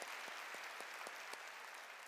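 A congregation claps in a church service, a dense, steady wash of applause with rhythmic beats standing out roughly every quarter second, fairly faint and continuous throughout.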